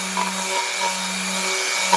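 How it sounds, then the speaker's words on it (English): Power sanding of rust off a vintage railroad tie plate, a continuous steady whirring grind held at even loudness for the whole stretch, close and uninterrupted, with no speech. "We're doing more sanding, so we're sanding it the rest of the way."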